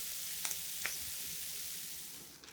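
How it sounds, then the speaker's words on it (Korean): Slices of Spam fry in a pan until golden on both sides, giving a steady close hiss of sizzling oil with a couple of brief louder pops and scrapes. The sizzle slowly fades toward the end. "앞뒤로 노릇노릇하게 맛있는 색깔 나도록 볶아주세요."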